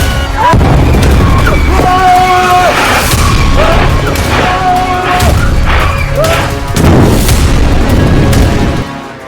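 Explosions in Beirut, Lebanon: loud, continuous booming and crashing blasts layered over a dense roar, with a voice speaking through much of it.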